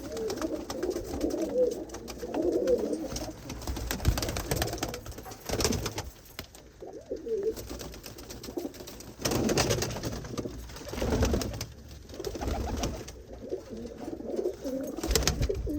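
Champion pigeons coo in repeated low rolling bursts, several birds close by, with short quieter gaps between rounds of calling.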